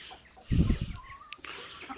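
Chickens and roosters cluck while drinking vaccine-laced water, one short burst of fowl calls near the mic followed by quieter scattered clucks over low background noise.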